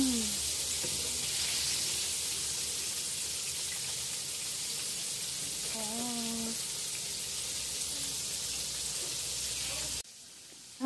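Filipino-style chicken frying in hot oil, a dense, steady sizzle that runs close and loud throughout, with a brief voice rising over it near the middle before the sizzle cuts off at the end.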